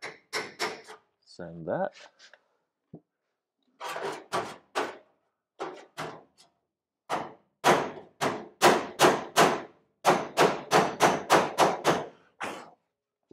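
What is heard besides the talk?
hammering VW car body panel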